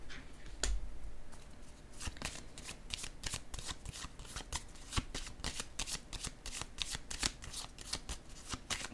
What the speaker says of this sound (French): je vais déposer une carte ici maintenant